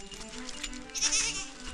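A Nigerian dwarf goat bleats briefly at mid-distance over faint outdoor background noise, a single wavering cry.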